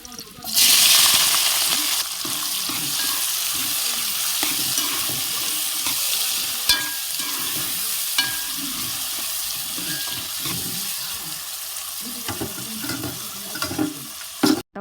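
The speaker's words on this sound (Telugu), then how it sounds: "దానిలో కూడా తగినంత ఆయిల్ అయితే వేసుకున్నాను ఇంకా పసుపు కూడా వేసి ఉల్లిపాయలు వేసేసుకుంటున్నాను" Onions and turmeric fry in oil in a pot for a prawn curry, a loud hissing burst at first settling into a steady, close sizzle with occasional stirring clatters.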